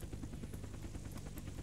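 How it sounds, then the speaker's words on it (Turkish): Helicopter in the survival game Unturned, a steady rapid rotor chop with a constant engine drone, fairly faint and continuous. "Abi kaldır o helikopteri."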